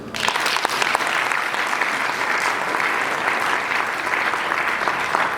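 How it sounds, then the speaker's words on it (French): Audience applause at a university thesis defense for a law doctorate at UNIKIN, a dense, steady roar of many hands clapping that holds evenly for several seconds, close and loud. "Je vais vous demander de les applaudir."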